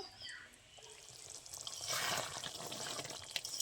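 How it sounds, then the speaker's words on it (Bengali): Brinjal simmering in a thick gravy in a pan, a faint, soft bubbling and spluttering that swells slightly midway and continues unevenly. "এবার গ্রেভির সাথে আমি বেগুনগুলো একটু ভালো করে ফুটিয়ে নেব"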